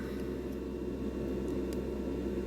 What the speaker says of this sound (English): Sorry about the noise in the background. I've got the extractor fan on